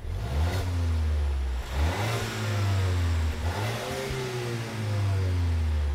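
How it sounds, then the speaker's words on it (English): Volvo V60 Cross Country with a 2-liter turbocharged four-cylinder engine accelerating hard, revving up through several gears with rising engine pitch and brief dips at each shift, loud and close throughout. "The Cross Country is powered by a four-cylinder. It's a 2-liter turbo with 250 horsepower and 258 pound-feet of torque"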